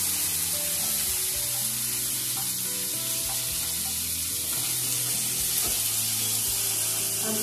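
Cut potato pieces sizzling in hot spiced oil after the tempering has fried, a steady close crackle and hiss with faint stirring and no talking.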